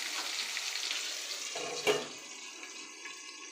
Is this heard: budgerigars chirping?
no